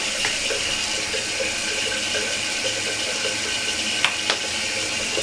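Tap water runs steadily and close by as hair is washed in a second rinse, a continuous broadband splashing hiss with a couple of brief brighter splashes near the end.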